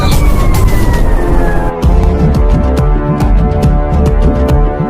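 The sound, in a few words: fire engine siren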